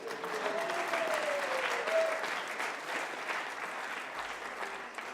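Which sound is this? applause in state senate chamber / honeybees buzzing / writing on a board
applause in state senate chamber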